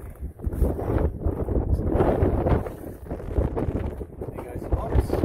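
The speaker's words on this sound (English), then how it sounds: "It's quite windy up here at the moment" Steady wind buffets the microphone with low rumbling gusts on a rooftop while a person talks over it.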